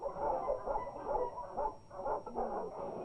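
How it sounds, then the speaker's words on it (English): A trained dog growls and barks in a threatening way, sustained rough vocal bursts repeating steadily and fairly close throughout. "Some dogs are taught only to make threatening noises."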